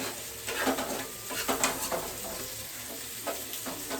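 Chicken biryani masala fries and sizzles in a pan while being stirred, with repeated scraping strokes of a spoon against the pot over a steady hiss, close and fairly quiet.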